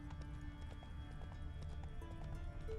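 Horse hooves clip-clop steadily in The Witcher 3 video game, a continuous galloping rhythm along a road at night, with occasional neighs and a low ambient game soundtrack underneath.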